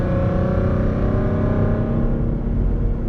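A cammed FBO Ford Mustang V6 running on E85 revs steadily at constant partial throttle, its rough, lopey exhaust drone close and loud without a break, and no one talks.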